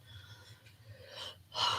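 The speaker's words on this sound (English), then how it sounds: "Take a deep breath" A slow, deep breath drawn in and let out near the microphone, ending in a louder, breathy exhale.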